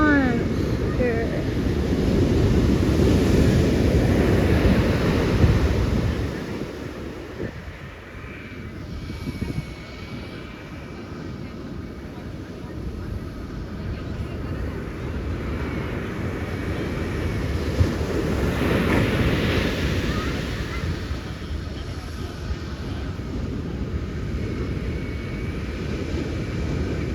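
Big ocean waves crash and roll at Aliso, a loud, continuous roar of breaking surf with heavy wind buffeting the microphone, easing briefly midway before building again.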